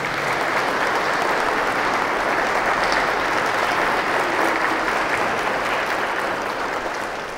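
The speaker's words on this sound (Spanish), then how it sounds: "Un fuerte aplauso a los nuevos esposos." Strong applause for newlyweds at a church wedding, a dense, steady clapping from the congregation that stays loud and even for the whole stretch.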